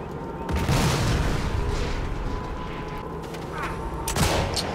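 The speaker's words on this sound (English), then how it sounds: "Okay, throwing grenade." A grenade explosion in Sniper Elite 5, a loud booming blast with rumbling debris, followed by further gunfire-like bursts and a second boom near the end.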